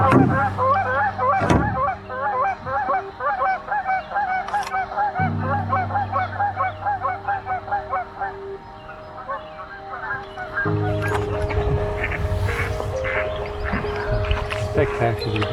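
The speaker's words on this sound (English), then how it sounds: "These ducks take off because they're sitting in amongst the weeds" Loud honking calls from ducks burst out repeatedly in a rhythmic chorus, close by, with flapping and splashing as they lift off from weeds on a misty creek.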